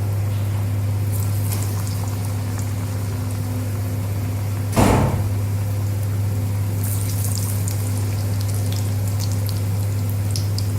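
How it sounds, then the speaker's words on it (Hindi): Batter-coated eggplant slices deep-fry in hot oil with a steady, soft bubbling hiss under a constant low hum. One brief louder splash and crackle breaks in near the middle, likely as a slice drops into the pan. "एक एक करके बैंगन लेते जाएंगे और इस तरह से कोटिंग करके डीप फ्राई करेंगे थोड़ा सा"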